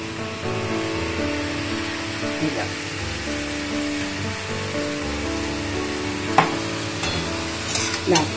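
Shukto vegetables frying in oil and being stirred, a continuous close sizzle with occasional clinks and scrapes of the spoon against the pan.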